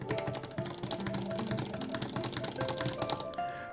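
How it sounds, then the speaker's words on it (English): Red Cherry MX mechanical key switches on a Mixbox arcade controller, pressed in fast, irregular runs of close, light clicks and taps that continue throughout. "these are Red Cherry MX mechanical key switches here, and I'll just switch to the bass audio real quick here just so you can hear them go"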